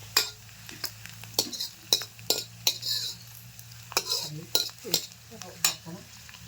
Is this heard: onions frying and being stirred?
yes